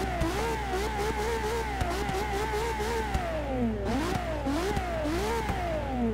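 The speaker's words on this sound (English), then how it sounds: "Ah, that hyper V12 sound." LaFerrari V12 engine in Forza Motorsport 6 revving hard and continuously, its pitch climbing and dropping through repeated gear changes in a loud, sustained, high-pitched wail with no talk.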